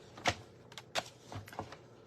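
A paper trimmer slicing a sheet of Early Espresso cardstock makes a few quiet, brief clicks and scrapes spread over two seconds, close by but soft, with no one talking.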